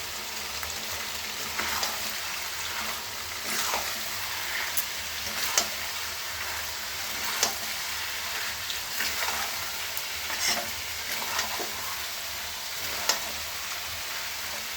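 Green chillies sizzle and fry steadily in hot oil in a pan, with occasional sharp scrapes and clicks of a spoon stirring through the whole stretch, no talking over it.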